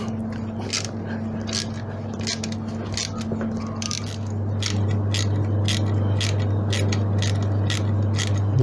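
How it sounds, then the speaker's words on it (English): Ratchet wrench loosening an exhaust clamp on a Suzuki V-Strom 650 motorcycle, a series of quick clicking bursts repeating roughly every half second over a steady low hum, close by. "So we'll loosen the clamp off."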